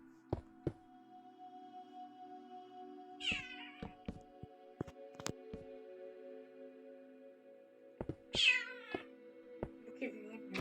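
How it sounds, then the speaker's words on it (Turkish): Two distinct cat meows in Minecraft, a few seconds apart, ring out over a quiet electronic hum with scattered clicks and taps. "burada kedi var."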